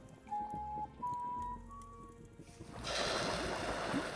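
A whistle in the video game Vintage Story: three short, clear rising tones in quick succession, followed by a steady rain-like wash of noise.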